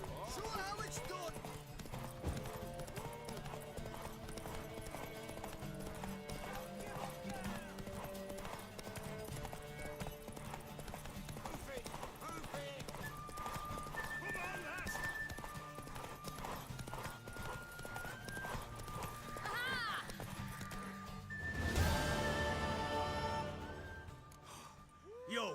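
Continuous rhythmic hoofbeats of a galloping horse in The Witcher 3, under music and voices, with a horse whinny near the end.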